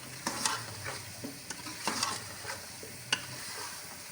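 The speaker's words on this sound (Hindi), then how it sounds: "अभी बस इसको एक दो बार चम्मच चलाएंगे ताकि आलू का भी ज़रा कच्चापन जो है ना वो ख़त्म हो जाए।" A spoon stirs aloo gosht curry in a pot, giving sharp scraping clinks a few times over a soft, steady sizzle.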